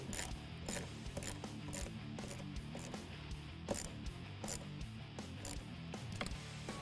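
A ratchet tightens the clamp on a Steeda ProFlow cold air intake filter on a 2015-2017 Mustang GT, with steady rapid pawl clicks in repeated strokes, close and clear, and no voices.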